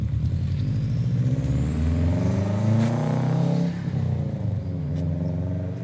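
Subaru WRX engine pulling away and accelerating, a steady mid-pitched drone with rising revs that swells, then fades slightly as the car moves off, continuous and fairly loud with no talk.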